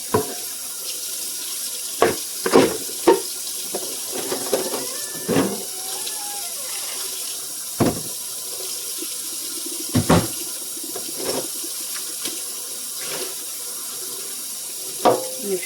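Tap water runs steadily into a kitchen sink while dishes are washed by hand, with scattered clinks and knocks of plates, bowls and utensils over the constant hiss of water, no talking.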